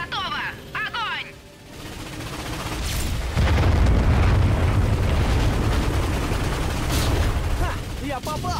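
Ion cannon blasts from the Ratchet & Clank video game: a heavy, booming discharge swells into a sustained loud roar of fire and rumble, with brief voice lines and electronic tones before it.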